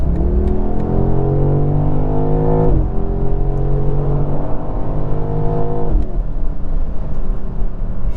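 A 2023 BMW M850i convertible with a V8 and automatic gearbox accelerating hard, the engine note rising loudly through two quick upshifts, each marked by a brief dip before climbing again, heard from inside the car.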